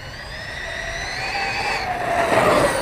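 An Arrma Kraton 6S RC car with a 1700 kV motor accelerates with a high electric motor whine that rises steadily in pitch, growing louder as it nears over about three seconds.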